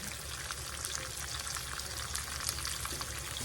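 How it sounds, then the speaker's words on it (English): Sausage fries in a skillet with a constant dense crackling sizzle, steady and fairly quiet, with no voices. "we about to get them crispy edges on that sausage,"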